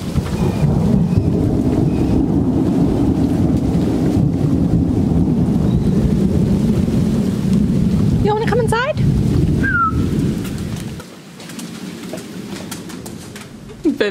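Steady heavy rain with deep rolling thunder fills most of the recording as a thunderstorm with lightning rumbles close by, a brief bird call cutting through near the end before the downpour drops to a quieter patter.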